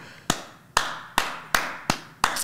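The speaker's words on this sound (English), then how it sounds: "And he's just clapping and smiling" A person clapping hands alone, six sharp, evenly spaced claps close by with no talk.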